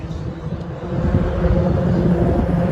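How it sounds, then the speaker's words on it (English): Steady low hum of car traffic crossing the Roebling Bridge overhead, heard from underneath beside the Cincinnati riverfront, a continuous droning rumble that grows slightly louder partway through. "Still hear the cars humming above it."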